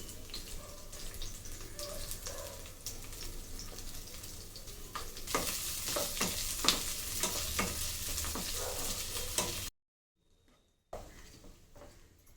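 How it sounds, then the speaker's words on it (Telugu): Chopped large onion and chillies sizzle steadily in a pan while a spoon scrapes and stirs in irregular strokes; the frying cuts off briefly near the end, then resumes. "పెద్ద సైజు ఉల్లిపాయని ఇలా ముక్కలుగా కోసుకొని ఇందులో వేసుకొని వేపుకోవాలి"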